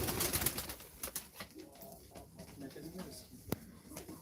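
Soft pigeon cooing at a live pigeon auction, with voices and scattered knocks and clatter around it.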